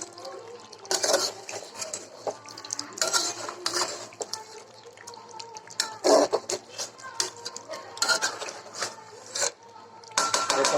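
Beef with jackfruit seeds stir-fried in a pot, a metal spoon scraping and clanking against the sides in repeated bursts, close and fairly loud, with softer sizzling between the strokes.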